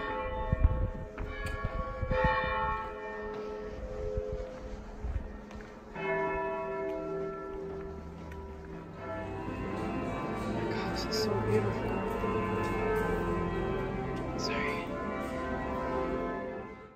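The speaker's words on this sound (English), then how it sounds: "Oh, and the bells are ringing." Church bells in Frankfurt, Germany, ring on and on with rich, overlapping tones, while a person talks quietly over the ringing.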